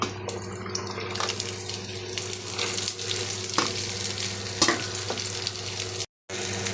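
Chopped green chillies and onions sizzle and crackle steadily in a hot pan, a close continuous frying hiss with occasional stirring scrapes and a brief drop-out near the end.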